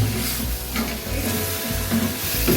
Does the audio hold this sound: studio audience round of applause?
no